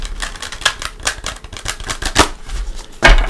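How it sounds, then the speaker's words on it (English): A Psychic Tarot card deck being shuffled, a string of crisp riffling and flicking bursts repeated in quick succession, close and fairly loud with no talk. "bring in the Psychic Tarot. Give it a couple shuffles"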